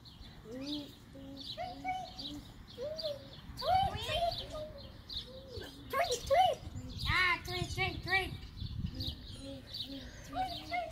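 A child imitates a bird with repeated high chirping and tweeting calls, mixed with children's voices and talk in a playful indoor game.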